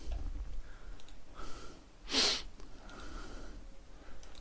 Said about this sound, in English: sorry about the sniffles. I got a bit of hay fever.